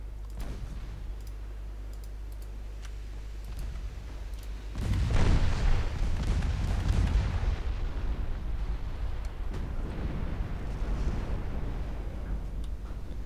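Torpedoes strike destroyers in a 1913-era naval combat video game: a deep, rumbling explosion erupts midway, swelling loud and then rolling off into a long, fading roar over faint ticking.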